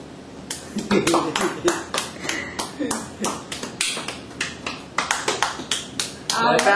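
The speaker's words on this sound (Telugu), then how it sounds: "చప్పట్లు కొట్టుకో" Hands clapping in a close, fairly regular series of sharp claps, paused briefly then resumed, with voices talking alongside.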